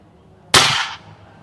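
A single sharp crack from a Monster M3 PCP airgun rifle, loud and close, with a bright burst that trails off in under half a second against quiet surroundings.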